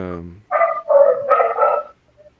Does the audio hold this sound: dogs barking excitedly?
yes